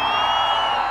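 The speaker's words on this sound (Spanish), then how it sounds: "déjenme decirles que se oiga un grito San Luis Potosí" At a live norteño concert in downtown San Luis Potosí, a large crowd shouts and whoops together in a dense, steady roar that fills the whole moment.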